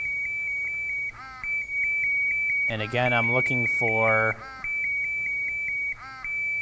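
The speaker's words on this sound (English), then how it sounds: "you're going to see the alarm, hear the vibratory and the audible going off, showing it's in a low alarm condition" An MSA Solaris gas detector in low alarm during a bump test, rapid repeating high beeps pulsing steadily and close, with someone talking over the middle of it.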